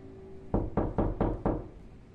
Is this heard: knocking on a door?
yes